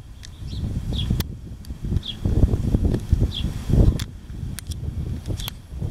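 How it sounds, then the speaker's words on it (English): Heavy wind gusts buffet and roar in uneven surges, rushing and rumbling low against the microphone, with faint bird chirps scattered above. "Here it is, the heavy wind."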